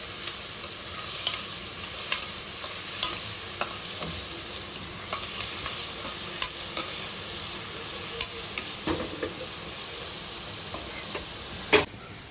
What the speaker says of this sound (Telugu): ఆనియన్స్ ఇంకా పచ్చిమిర్చి యాడ్ చేసుకుందాం యాడ్ చేసుకుని బాగా ఫ్రై చేసుకుందాం